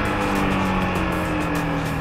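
An FKM 3GP motorcycle revs hard during an acceleration test ride, its engine producing a loud, steady drone with a rising tone. No one speaks.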